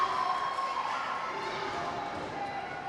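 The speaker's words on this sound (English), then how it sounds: "Seth Stevens with his own cheering crowd here, group here, supporting him tonight" A crowd at an independent wrestling event cheering for a wrestler, a loud, dense roar of voices that holds steady throughout, with commentators talking over it.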